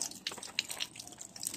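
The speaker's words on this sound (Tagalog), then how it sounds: "Pumapatak na po siya." Water from a ram pump outlet patters quietly in quick, irregular drips and small splashes, faint and close with a soft liquid trickle underneath.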